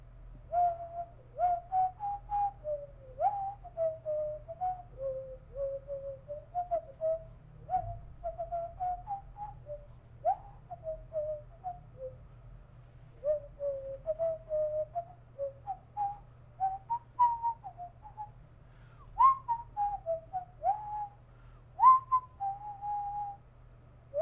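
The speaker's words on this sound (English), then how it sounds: "I'll whistle a tune of some kind." A person whistles the Escaflowne opening theme, a steady solo melody of short gliding phrases over a low constant hum, continuing without pause.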